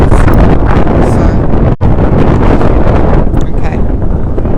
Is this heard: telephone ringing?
no